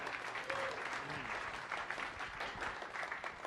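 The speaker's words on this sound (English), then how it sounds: "Let's give everybody one more round of applause" An audience at a science cafe on nature-inspired design applauds the students, a steady, moderately distant wash of clapping that carries evenly through the clip, with faint voices rising briefly within it.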